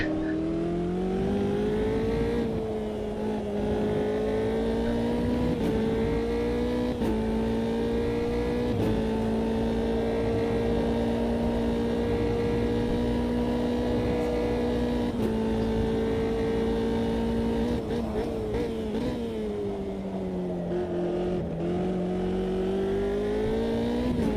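Formula 3 race car engine in the racing game Automobilista 2 at Jerez, a loud, continuous high-pitched whine that climbs through gears with short shifts and dips, close and unbroken by talk.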